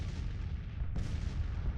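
Cannon fire from a Civil War battle in the strategy game Grand Tactician: The Civil War: a steady low roar of distant guns, then one sudden sharp boom that rolls on into the rumble.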